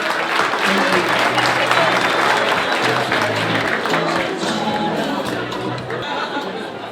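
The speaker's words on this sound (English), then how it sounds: "Let's give them a round of applause." At an awards ceremony in Cape Town, a large audience claps loudly and continuously for about seven seconds. Murmured chatter and a little laughter run through the crowd noise.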